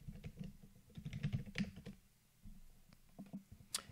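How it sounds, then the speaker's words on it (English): Quiet, close typing on a computer keyboard, an uneven run of light key clicks with short pauses over about four seconds. "let me just go and type something"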